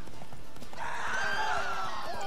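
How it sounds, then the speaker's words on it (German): Panicking horse in The Witcher 3 game lets out a loud, shrill whinny over clattering hooves, the neigh rising and wavering for about a second after a busy start. "Pferdepanik."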